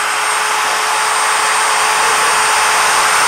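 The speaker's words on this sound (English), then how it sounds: "we just drilled our fourth hole on side one" A rotary cutter drill head drilling holes whines steadily and loudly, a continuous bright grinding tone close by with no pauses.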